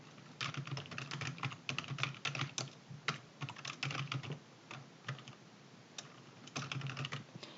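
Typing on a computer keyboard while entering data into an Excel spreadsheet, a close, quiet series of irregular key clicks and taps in quick bursts, with no talk.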